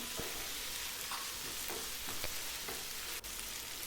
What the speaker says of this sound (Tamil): நல்லா ஒரு மீடியம் ஃப்ளேமில் வச்சு வதக்கிக்கோங்க